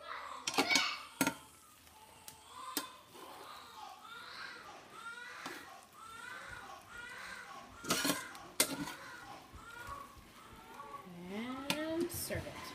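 Napa cabbage and fried sausage get stirred in a skillet, with scattered clanks and scrapes of the utensil against the pan while children chatter and call out in the background.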